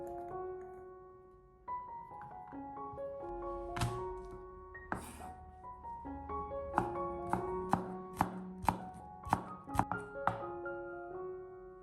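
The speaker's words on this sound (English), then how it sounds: "Meanwhile, prepare 4 cloves of minced garlic." Garlic cloves minced with a knife on a board: sharp chopping taps, sparse at first, then a quickening run of crisp, evenly spaced chops, all over soft background music.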